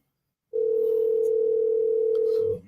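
A steady electronic dial tone from a business phone line starts abruptly after a short silence and holds at an even pitch for about two seconds before cutting off.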